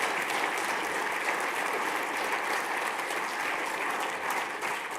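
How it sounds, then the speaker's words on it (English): Sustained audience applause fills a large hall at the Co-op Congress, a dense, steady roar of many hands clapping at even loudness throughout, with no voices standing out. "So can you all give yourself and the speakers a big round of applause as well?"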